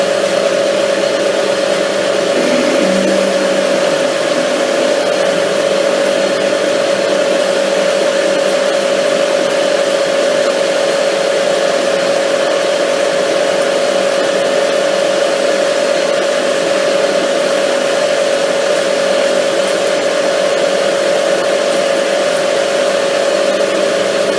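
A metal lathe boring a shallow hole in a workshop, giving a loud, steady machine drone with a sustained tonal whine that holds unchanged throughout, no voices heard.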